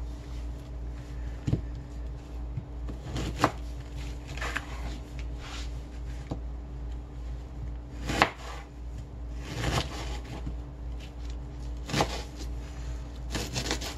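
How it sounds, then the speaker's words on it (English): Onions chopped with a knife on a board give scattered, sharp knocks, a few louder than others, over a low steady background hum. "So just cut it up."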